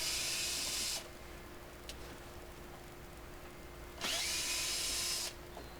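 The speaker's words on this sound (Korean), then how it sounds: "요거를 전동으로 풀어 줄게요" Electric power tool loosening the rear fender bolts on a car, a short whirring burst near the start and another about four seconds later, close and loud, with a steady hum in between.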